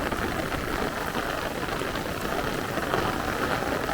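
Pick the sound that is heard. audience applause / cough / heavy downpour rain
heavy downpour rain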